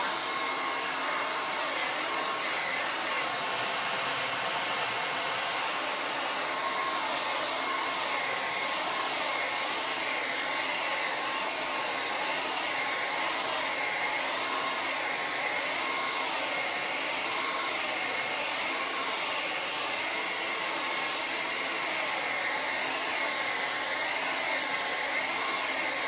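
A hair dryer blows steadily and loudly for the whole stretch, drying paint on a wooden door hanger, a constant even rushing hum with no pauses.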